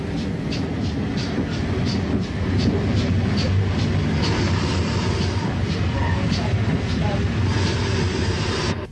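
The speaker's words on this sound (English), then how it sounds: "57XX Panier Tank number 3621 arrives with the train from Neath" A 57XX pannier tank steam locomotive, number 3621, pulls in with a train in 1962 Wales, a steady loud rumble of wheels and carriages with rhythmic exhaust beats running throughout.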